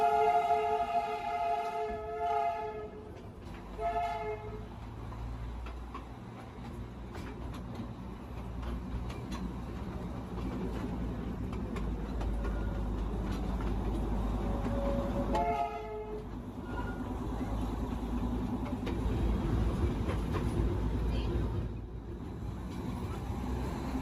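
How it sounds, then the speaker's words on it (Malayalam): The Darjeeling Himalayan Railway toy train runs through town, sounding its horn in short toots near the start and again midway, over a steady low rumble of wheels and carriages rolling past. "ഡാർജിലിംഗ് ഹിമാലയൻ റെയിൽവേ എന്നാണ് ഇതിന് പറഞ്ഞു വരുന്നത്. ടോയ് ട്രെയിൻ എന്നും പറയാറുണ്ട്."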